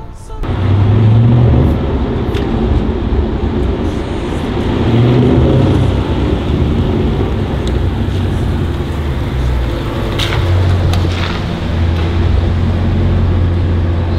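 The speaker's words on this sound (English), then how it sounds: "He's actually going for a long drive now" A tuned race car engine runs close by with a loud, steady rumble and slight swells in revs, holding a continuous drone for the whole stretch.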